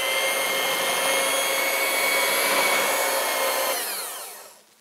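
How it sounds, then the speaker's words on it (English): An electric mixer on a lowered speed whirs steadily and close while beating cream cheese with brown sugar and vanilla, then winds down and stops near the end. "so I've turned the mixer down a little bit, and we just want to beat these in pretty good"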